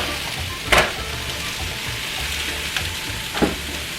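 Ground turkey frying in a pot on the stove, a steady close sizzle with a few louder scrapes of stirring, no voices.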